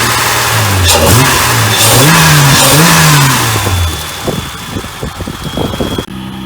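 A Mazda Miata fitted with a J-Series V6 and Racing Beat catback exhaust revs up and down several times in smooth, rising and falling sweeps, then settles into a rough, uneven idle.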